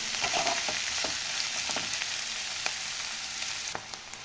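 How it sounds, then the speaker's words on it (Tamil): Onions for a chutney sautéing in a pan, a steady close sizzle with spatula strokes scraping and tapping at an irregular pace, no voices. "வெங்காயம் கண்ணாடி பதத்துக்கு வதக்கலாம்."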